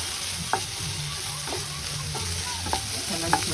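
Onions frying in butter in a pan for egg gravy, a steady close sizzle with a few sharp clinks and scrapes of stirring.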